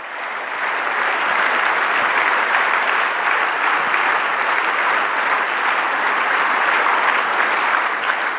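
A large audience at a celebration event breaks into loud, sustained applause that holds steady and unbroken throughout, dense and close with no voices rising above it.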